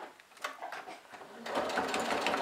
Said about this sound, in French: je continue de coudre